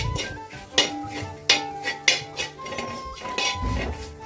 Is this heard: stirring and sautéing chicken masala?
yes